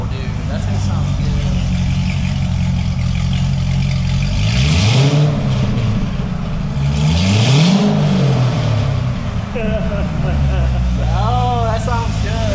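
A C6 ZR1 Corvette with a new aftermarket catback exhaust revs loudly up and down in two strong swells while raised on a lift, its engine droning steadily between revs, with a voice talking over it.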